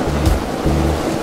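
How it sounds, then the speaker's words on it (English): A boat running river rapids near Yangshuo, with a steady rushing churn of water and low surging pulses as the hull rides over the current, loud and close. "we're going over the rapids"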